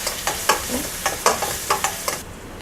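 Mustard seeds, dried red chili, asafoetida and crushed garlic fry in hot oil in a pan, crackling and sizzling steadily with sharp pops every fraction of a second, close and alone.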